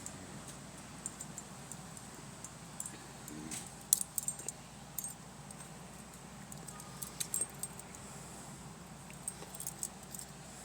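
A portable set of torque spanners is handled, giving faint metallic clinks and jangles scattered over a low background hum.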